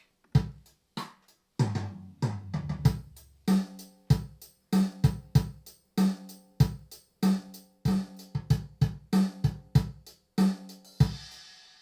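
A Boss RC-600 looper plays a drum machine beat, a steady pattern of punchy kicks, snares and hits with a tonal bass element, repeating evenly and alone.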